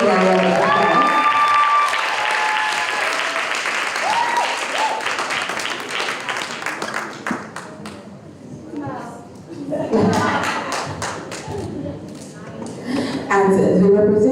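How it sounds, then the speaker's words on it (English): Audience at a debate finals event applauds for a college representative, steady clapping from a large crowd filling the room, fading briefly mid-way then swelling again. "Let's give a round of applause."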